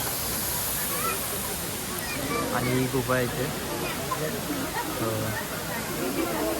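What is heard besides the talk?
waterfall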